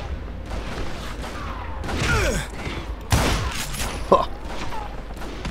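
Scattered in-game gunfire from the Western shooter Call of Juarez Gunslinger, several cracks and booms over a noisy game soundscape, with a brief voice exclamation.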